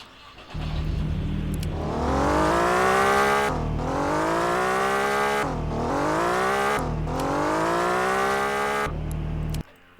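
A car engine in the video game Drive World revs up repeatedly, pitch climbing through each gear before dropping and climbing again, loud and close with no talking.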